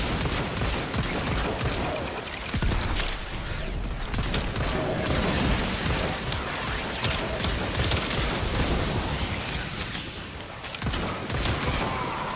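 Felarx shotgun fire in the video game Warframe: repeated blasts and bursts of gunfire over a dense, busy battle mix, moderately loud and steady throughout without speech.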